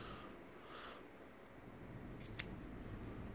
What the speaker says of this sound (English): I'm going to cut off roughly about that much.